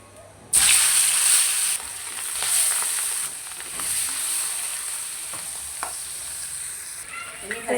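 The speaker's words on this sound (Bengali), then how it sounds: "বাকি মাছগুলো দিয়ে দিব" Fish frying in hot oil, a bright loud sizzle that bursts in suddenly, then eases to a steadier hiss with occasional light clinks and spatters, no speech.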